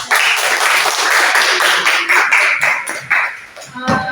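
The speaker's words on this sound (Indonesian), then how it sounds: "beri aplaus untuk Mbak" Applause for a presenter at a mentoring session, a few seconds of scattered close clapping with sharp taps, fading toward the end.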